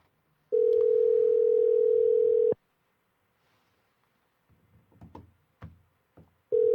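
A phone call back carries a steady telephone dial tone for about two seconds, followed by quiet clicks and faint handling sounds. The same tone returns briefly at the end, clear and close, with no talk.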